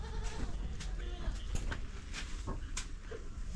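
Goats on a farm bleating several times in short bursts, close by, over a steady low background rumble.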